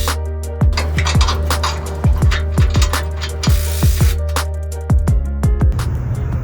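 A nut setter runs in short bursts, driving 14 mm bolts through a skid plate on a first-generation Toyota Sequoia. Repeated close mechanical whirring and clattering ends each time in a sharp ratcheting stop, with pauses between bolts.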